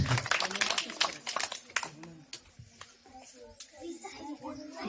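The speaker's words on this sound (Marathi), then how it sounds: "टाळ्या वाजवा त्यांच्यासाठी" Children clapping for a school quiz team, a short burst of scattered applause at the start that thins into sparse claps, mixed with kids' voices and an adult talking.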